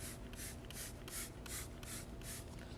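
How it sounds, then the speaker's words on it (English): A trigger sprayer mists stain extractor onto the lower interior surfaces of a car, giving seven quick, evenly spaced hissing bursts close to the microphone over a steady background hum. "I'm going to begin this process by spraying a coat directly onto the surface that I'm going to be using it on."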